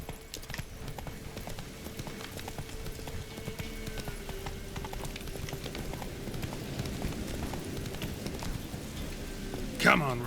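Roach the horse gallops in The Witcher 3, hooves clip-clopping steadily throughout at moderate distance over a low game ambience, with a brief louder burst near the end.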